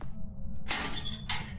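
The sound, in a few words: door opening in the video game Phasmophobia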